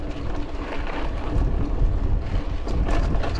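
Wind gusting across an open hillside on a walk near Hardcastle Crags, a steady broad rush that swells and buffets the microphone, with louder gusts toward the end and no talking.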